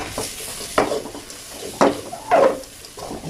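Insects being stir-fried dry in a pan, a few distinct scraping stirs of a utensil against the pan over a quiet, faint sizzle.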